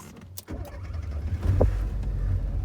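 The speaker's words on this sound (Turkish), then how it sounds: "dur, arabayı bir daha çalıştırayım." A car engine starts during a driving lesson, a brief starter crank followed by the engine catching and settling into a low, steady idle close by inside the car.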